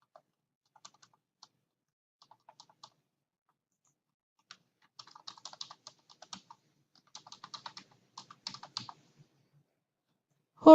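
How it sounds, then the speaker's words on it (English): Typing on a computer keyboard: soft, close key clicks, sparse and hesitant at first, then quicker bursts in short runs, with a louder knock at the very end. "type in all my contact information"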